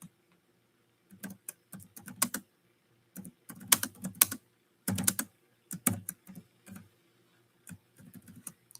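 Fingers tap away at a computer keyboard in quick irregular bursts of clicks, close and distinct, separated by short pauses of near silence.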